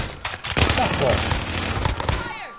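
Rapid video-game gunfire in a PS4 online shooter, bursts of shots crackling almost continuously for a few seconds, loud and close, with a player shouting over it.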